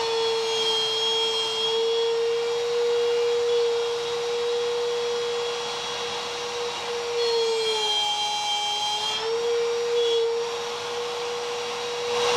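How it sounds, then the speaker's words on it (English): Bosch Colt router with plunge base cutting wood, a loud steady high-pitched motor whine with a brief dip in pitch midway as it bogs under load, then recovering. "Now when I route, I can hear when I get to the end the motor will stop."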